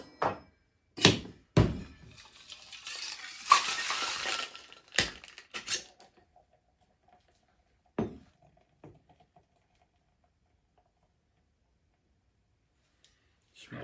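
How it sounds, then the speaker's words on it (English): A cocktail tin with ice is shaken in a bar setting, giving a burst of rattling and clattering knocks, followed by scattered clinks and thuds that trail off into near silence. "we're going to give this a good shake and chill it down"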